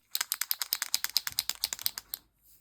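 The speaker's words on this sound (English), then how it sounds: "To activate the pen, you just push it down until the paint flows to the nib" A white Posca paint pen is pumped against its nib, giving a quick run of about twenty crisp, close clicks in a steady rhythm before it stops.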